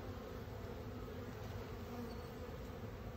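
Honeybees fanning their wings at the hive entrance make a continuous, close, dense buzzing drone that stays even for a few seconds.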